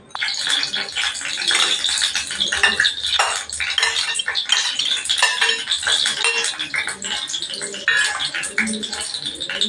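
Fried okra stirred into yogurt for Odia-style bhindi raita: a spoon clinks and scrapes quickly and steadily against a bowl, close and fairly loud, with bursts of rattling throughout.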